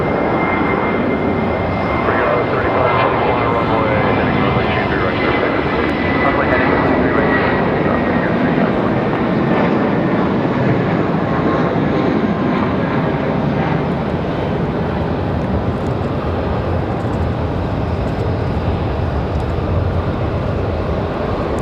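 A JetBlue jet airliner departing Raleigh-Durham International Airport, a loud, steady engine roar that holds close and strong from start to finish.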